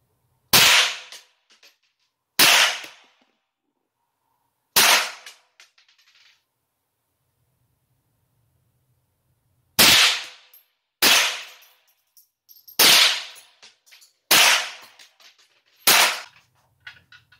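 A GSG-15 .22LR semi-automatic rifle fires nine sharp, loud cracks outdoors, unevenly spaced with pauses between them and a brief echo after each.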